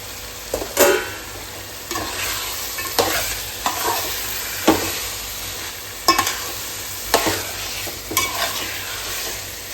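Peas and paneer frying in a pan, with a continuous sizzle and repeated scraping stirs of a spoon against the pan at an uneven rhythm, close and steady.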